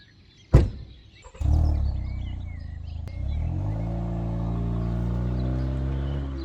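Ford Focus at dawn on an empty road: a door thunk, then the engine starts and settles into a steady near idle rumble, rising slightly in pitch, alone with no talk.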